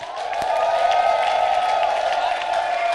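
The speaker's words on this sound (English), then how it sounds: "Now let's give the Lord a clap and a shout." A church congregation at a convention morning session claps and shouts together in a sustained, loud crowd roar of mixed voices, steady for the whole stretch.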